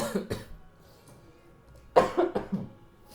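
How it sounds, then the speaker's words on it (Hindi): A person coughs several times in two short bursts, close and fairly loud, with quiet pauses in between. "थोड़ा सा खांसी जो है उसको नेगलेक्ट कीजिएगा"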